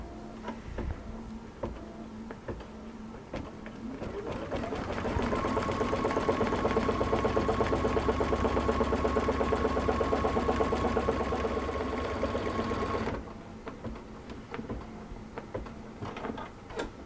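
A sewing machine stitches fabric slipper feet, spinning up and then running steadily in a loud rhythmic whir for several seconds before stopping. Scattered handling clicks and thumps come before and after the run.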